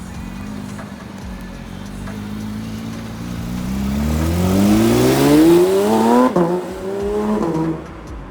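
A McLaren 720S supercar approaches with a rising engine roar, revs hard as it passes close by, then the sound drops away as it speeds off.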